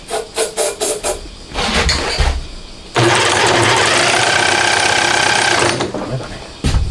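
Homemade four-cylinder 124.4cc engine built from a Honda Monkey cranking over without firing: a few quick starter pulses, then a loud sustained whirring crank for several seconds that cuts off abruptly.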